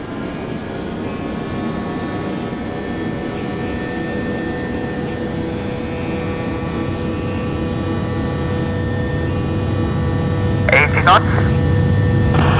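An AirBerlin airliner in Microsoft Flight Simulator X rolling for takeoff from runway 07 at Frankfurt, with a steady, slowly building engine roar under radio talk from air traffic control and the pilot.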